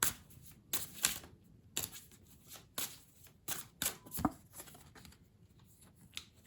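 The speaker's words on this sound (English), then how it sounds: "Let's get some more cards out for you." Tarot cards being shuffled and drawn, a series of quick, crisp riffling and slapping bursts at an uneven rhythm, close and fairly quiet with no talking.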